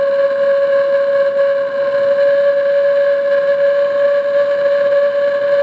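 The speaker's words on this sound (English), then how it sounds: "this is how you make a fire whistle." Steady, loud whistle from a homemade wooden rocket stove blasted with a propane blowtorch, a single sustained tone held throughout over a rushing roar of flame.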